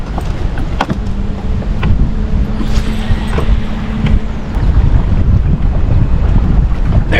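Heavy wind buffets the microphone on open water during bass fishing from a boat, a loud, constant roaring rush with low rumble and no speech.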